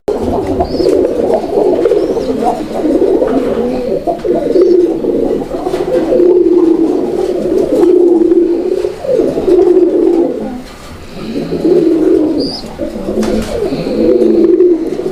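A Bombay pigeon sounds its distinctive call over and over, a run of rolling, throaty coos close to the listener, steady and loud with only brief pauses between phrases.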